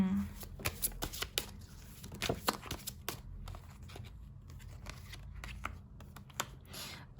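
Tarot cards are shuffled close up in a series of quick, crisp riffling bursts and soft slaps, with brief pauses between, against a quiet room.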